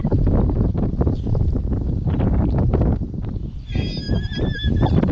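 Strong wind blasts through a Danish coastal town, hammering the microphone with loud, steady low-frequency buffeting, while a faint high whistling tone joins near the end.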